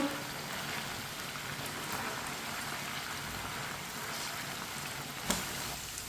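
Chicken pieces frying in a pan while stirred with a spoon: a steady, close hiss of sizzling oil throughout, with one sharp clink of the spoon near the end.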